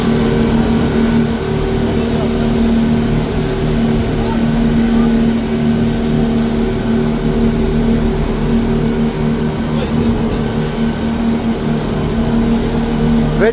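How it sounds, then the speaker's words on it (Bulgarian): A dive boat's engine drones steadily as it pulls away from the pier near Koh Tao, a loud, close motor hum with constant water rush and no pauses. "Лодката вече се отдели от пирса."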